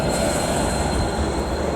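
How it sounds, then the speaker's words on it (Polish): An old tram rolls along the rails through Timișoara in Romania, a steady close rumble with faint wheel squeal, unbroken for the whole short stretch. "Jest starodawny tramwaj. Jest nawet drugi, już mniej starodawny abym powiedział nowoczesny tramwaj."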